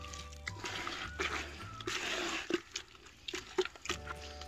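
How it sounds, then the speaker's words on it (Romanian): Soil mixed with water into a thick paste for treating a diseased fruit tree, heard as close, wet squelching and sloshing with occasional drips and soft thuds, fairly quiet and without talk. "Vom amesteca bine, bine cu apă pământul"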